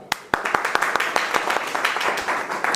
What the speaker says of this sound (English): Please clap for Vartika.